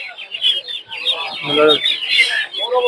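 Chickens clucking and calling up close at a bustling poultry market in Tongi, with Brahma chicks and roosters among the birds, a busy run of overlapping clucks and squawks.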